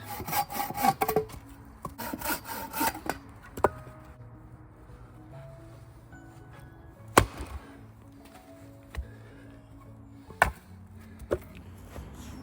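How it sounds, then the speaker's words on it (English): Kukri blade cutting a framing log for an emergency fire lay outdoors: a dense burst of chopping and sawing strokes at the start, then scattered sharp single knocks spaced a few seconds apart, close and fairly loud, no talking. "The next thing we want to do then is cut our framing log."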